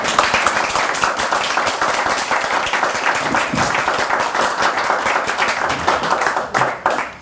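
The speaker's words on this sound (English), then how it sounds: "and I applaud you." A Toastmasters club audience applauds after a table topics speech, with dense, sustained clapping from many hands filling the room at steady loudness for several seconds before tapering off at the end.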